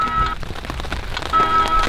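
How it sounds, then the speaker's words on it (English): Pouring rain on a canoe-trip campsite, a dense, steady hiss of drops striking surfaces close by, with thin tonal sounds over it and no talk. "We got pouring rain."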